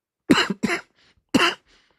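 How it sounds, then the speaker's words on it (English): Three harsh coughs close to the mic, two in quick succession and a third after a short pause, with faint throaty breaths between. "Sorry for all the coughing."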